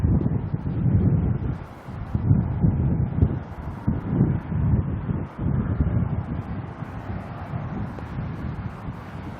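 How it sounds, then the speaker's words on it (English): Strong wind gusts buffet an outdoor microphone at an airport, a loud low rumbling roar that swells and dips in waves throughout, with no voices. "Wow, this is massive wind gusts."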